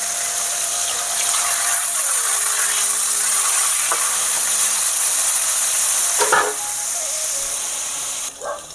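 Soaked chana dal goes into hot oil already tempered with dried red chilli, fenugreek and nigella seeds, giving a loud, continuous sizzle with stirring scrapes, easing toward the end.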